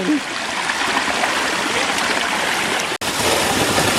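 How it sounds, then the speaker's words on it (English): Steady rushing water from a mountain river waterfall close by, a broad continuous roar, with a brief dropout near the end. "we just made it to the first waterfall"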